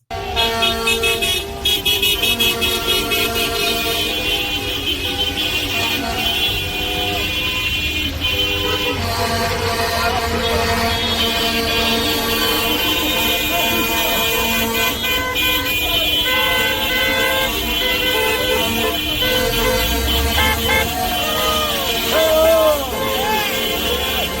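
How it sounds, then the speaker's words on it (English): Cars, SUVs, pickup trucks and work trucks drive along a road and honk horns repeatedly. Loud, dense traffic noise runs throughout with overlapping toots and blasts, and voices mix in. "it's people in their cars, in their sedans, in their SUVs, in their pickup trucks, in their work trucks"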